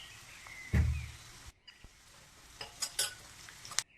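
Crushed garlic, about nine or ten cloves, stirred in a pan with a few scrapes and clinks of a utensil, one louder thump near the start, and a faint sizzle underneath during tomato rasam preparation.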